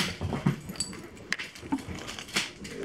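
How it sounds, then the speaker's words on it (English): A house dog makes sharp, scattered vocal bursts indoors, close and fairly loud, alongside clattering and movement noises, with no talking. "What are you barking at?"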